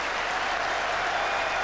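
A capacity cricket crowd at Old Trafford claps in steady, dense applause at the 1981 England v Australia Test, a broad wash of clapping filling the whole moment.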